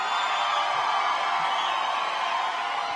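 Arena crowd at a caged fight night cheering and whooping for red corner fighter Sam Davis, a steady, loud wash of voices filling the whole stretch without letup.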